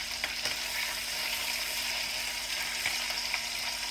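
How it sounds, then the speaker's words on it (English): Meat fries in a pan with a steady, close sizzling hiss, scattered small pops crackling through it and a faint hum underneath. "as it's cooking, you can hear it frying up a little bit"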